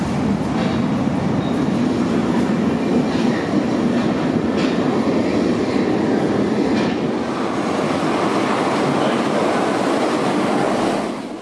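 A Berlin U9 underground train running through its tunnel, giving a loud, steady rumbling roar with faint rail clatter throughout, heard close from on board.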